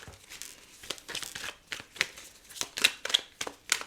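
Tarot cards being drawn and handled from a deck, giving a quick series of close, papery flicks and slides with an uneven rhythm, each short snap standing out against near silence.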